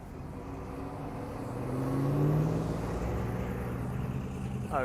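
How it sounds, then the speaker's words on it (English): Traffic on a busy road, with a steady wash of cars passing by that swells to a louder close pass midway, then eases back down. "Oh, there's like so many cars here."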